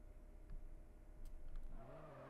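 A car engine with NOS boost in the video game Drift Streets Japan hums low, then surges into a rising rev toward the end, with faint tire and clicking sounds along the way.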